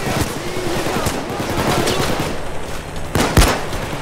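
Gunfire in the video game PayDay 2, rapid overlapping shots and bursts crackling throughout, with a sharper loud shot near the end.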